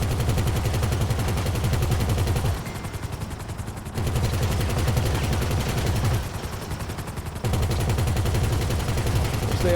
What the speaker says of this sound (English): It has 50 caliber machine guns, which are pretty good